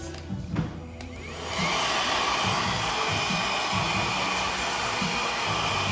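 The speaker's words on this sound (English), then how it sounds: "We're going to use the blow dryer to stretch on low heat." Blow dryer running steadily on low heat with high airflow while stretching 4b-4c curly hair, switching on after a brief quiet start and then holding a loud, continuous close-up whoosh.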